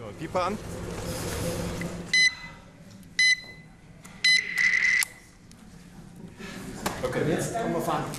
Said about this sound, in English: An avalanche beeper for extra security.